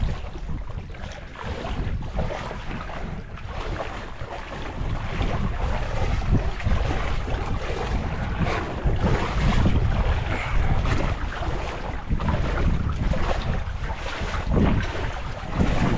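A Honda GX430 engine on a service boat drones steadily for the full stretch, partly buried under heavy wind buffeting and splashing water, with no talking.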